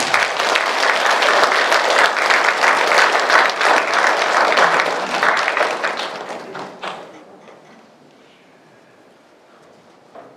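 A church audience gives a big round of applause welcoming a Catholic priest to speak, dense steady clapping for about six seconds that tapers off into near silence.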